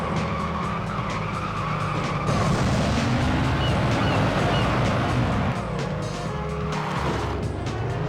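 Race car in the Hot Wheels Stunt Track Challenge PS2 racing game boosting along the track, a loud continuous engine whine with skidding tire squeal and shifting pitch, layered over game music and effects.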